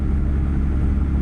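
Steady low drone of a modded Scot A2HD truck engine in American Truck Simulator cruising at constant RPM, a loud, close and unbroken rumble with no voices over it.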